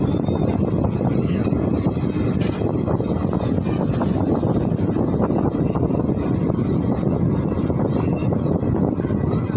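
A train in June travels between Lucknow and Jasidih, heard from inside an air-conditioned third-tier sleeper carriage as a loud, unbroken rumble and rush with a faint thin whine rising above it partway through.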